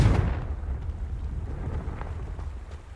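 Confringo spell blast in Hogwarts Legacy, a deep rumbling explosion bursting at the start and decaying into a low, lingering roar with faint crackles; no voices.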